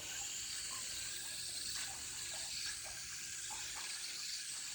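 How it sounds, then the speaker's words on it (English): Water from a hose or sprayer showers corn plants inside a greenhouse, making a steady, soft broadband hiss that stays faint and even throughout. "let's give these guys a shot of water"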